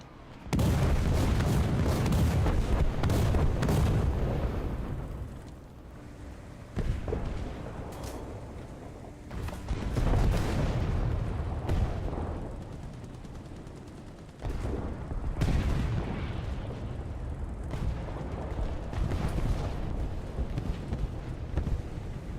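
Heavy artillery strike explosions in the tank combat game War Thunder, loud booming blasts and rumbling gunfire that roll on continuously for the whole stretch, dipping briefly between bursts.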